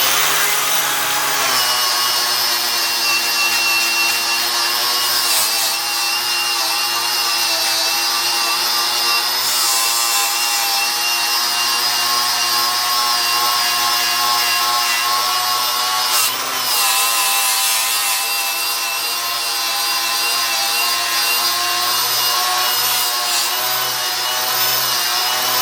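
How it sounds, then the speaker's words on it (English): Cordless Milwaukee grinder fitted with a rapid strip disc working metal, a loud continuous high whine with grinding rasp that dips briefly a few times over nearly half a minute. "So that's with the rapid strip disc."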